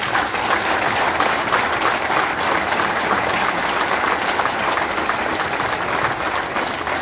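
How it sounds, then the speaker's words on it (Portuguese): Applause for municipal council candidates at a campaign presentation in Vizela, a steady, full roomful of clapping that holds evenly throughout. "Para eles eu peço uma salva de palmas"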